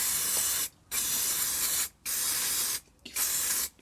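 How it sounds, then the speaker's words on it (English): Brake cleaner hisses from an aerosol can in three or four steady bursts with short pauses, sprayed onto a BMW R 1250 GS motorcycle exhaust flap valve, close and alone. "giving it a clean inside and outside with some brake cleaner"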